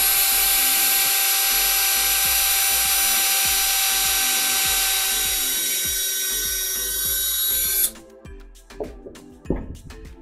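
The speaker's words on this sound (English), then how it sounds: "I would start with a smaller drill bit first, measure to center, and drill through" A power drill whines steadily at high speed as it bores through a wooden dowel, with faint rhythmic knocks underneath, then cuts off abruptly followed by a few clinks.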